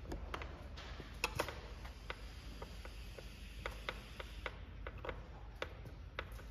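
Ratchet tightening bolts on a 2022 Honda Navi motorcycle, a series of quick, faint clicks in irregular bursts over low background hum, close by, without speech.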